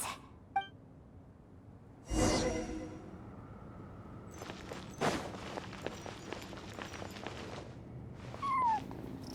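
A cat cries in the Genshin Impact video game, with a few distinct meows spread apart over quiet ambience, plus scattered soft taps and footstep-like clicks in between.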